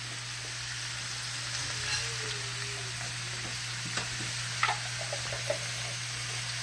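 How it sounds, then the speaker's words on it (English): Minced garlic sizzles and fries in a hot pan on high heat for dirty rice, a steady soft crackle with a few small pops and knocks from the pan, with no talking. "once we get this up high, and throw a little garlic in there, just a little bit"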